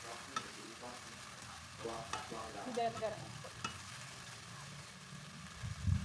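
Close sizzling and frying with a spatula stirring and scraping through fried noodles and bean sprouts in a hot pan, irregular clatters over the steady crackle.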